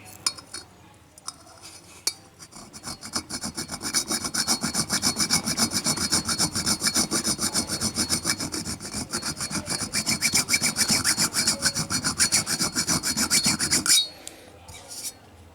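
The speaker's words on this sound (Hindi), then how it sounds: "इसको अभी हम पॉलिश करेंगे तो नीचे चमकीली सतह दिखेगी।" Tarnished copper metal is rubbed hard in a fast, steady back-and-forth rasping scrub that runs close and loud for about twelve seconds before stopping abruptly.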